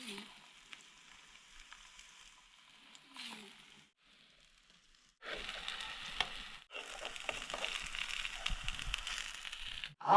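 Flour mixed with peas, onion and chili being stirred and cooked in a pan in a jungle mud house, with quiet, intermittent scraping at first, then louder bursts of sizzling and crackling in the second half.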